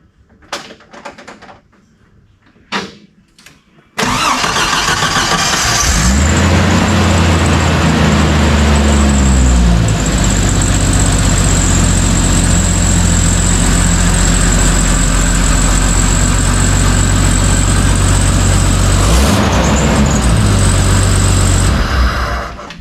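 Fuel-injected Jeep 4.0 with a turbo install cranks a few times, fires up loudly, then settles into a steady rough idle with slight revs, close and continuous.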